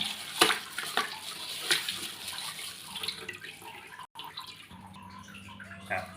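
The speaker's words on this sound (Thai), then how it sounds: "ล้างหลายๆน้ำเลยนะครับ ล้างเอาความเค็มออกนะครับ" Salted tilapia is rinsed by hand in a basin of water, giving sloshing, splashing and trickling sounds with occasional drips, fairly quiet and close.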